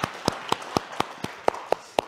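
A church congregation at a Sunday worship service claps in slow, even unison, roughly four claps per second, moderately near and fairly soft with no voices over it.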